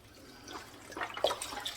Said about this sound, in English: So let's pour in our broth.